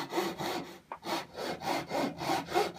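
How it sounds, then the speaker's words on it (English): A hand saw cutting straight down into a wooden stick to form the headstock of a cigar box guitar neck: steady rasping back-and-forth strokes, about six of them, with a brief pause near the start, close and fairly loud. "So I'm going to use this line to cut straight down."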